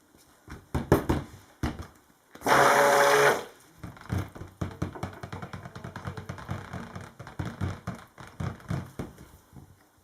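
A stick blender pulses once in a bowl of cold process soap batter with titanium dioxide and fragrance oil, a loud steady whir lasting about a second and a half, surrounded by scattered knocks and handling clatter.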